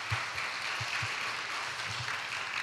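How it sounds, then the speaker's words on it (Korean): A church congregation at a Sunday service claps in blessing, a steady wash of many hands with a few low thumps, moderately close and continuous throughout. "우리 축복의 박수 하겠습니다."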